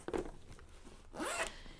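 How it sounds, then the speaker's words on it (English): The zipper on a leather planner is drawn in two short runs, a quick rasping pull followed by a longer, louder one, close up and with no talking. "And so here's the zipper"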